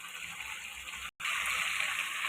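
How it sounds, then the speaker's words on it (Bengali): Chopped bottle gourd tipped into a pot of cooked-down spice mixture for a pangas fish curry, giving a steady loud rushing, hissing pour with one brief break midway, no voices. "এবার মশলার করে লাউটা ঢেলে দিলাম।"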